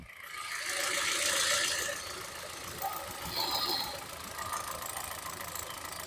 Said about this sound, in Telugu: ఇంజిన్ సౌండ్ చూపిస్తాను